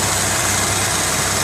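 A steady engine idle from a 1987 Buick Grand National drones on with a constant low rumble and a faint, even lifter tick layered on top, with no voices.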